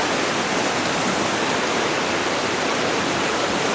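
A steady, full roar of falling water from a waterfall in autumn, continuous and even for the whole stretch with no pauses and no voices.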